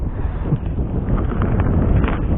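Wind gusting steadily across a microphone beside a natural fishing pond, a loud, continuous low rumble and buffeting roar filling the whole moment, with no voices.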